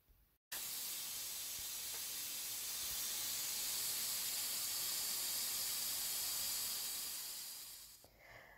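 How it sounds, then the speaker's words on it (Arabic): Steady, loud hissing steam from a pressure cooker holding meat tangia on low heat, beginning abruptly after a short pause and fading near the end; no speech. "ونسدو الكوكوت بلا ما نقليو اللحم وما نساوش الصفاره ونخليوها تطهى على نار مهيله مده ساعه"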